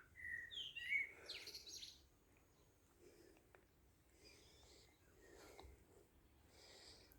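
Small birds chirp and sing in a garden, bright short calls heard early and then sporadically, faint and somewhat distant against a quiet outdoor background.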